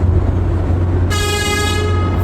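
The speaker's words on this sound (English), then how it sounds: "There's no reason to honk, but whatever." A single loud vehicle horn blast starts partway through and holds steady over a low rumbling engine background, with no one talking.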